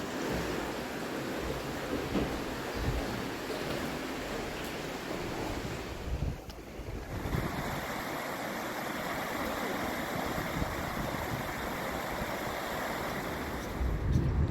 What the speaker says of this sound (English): Here's the water wheel.